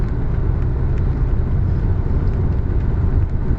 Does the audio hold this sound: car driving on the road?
yes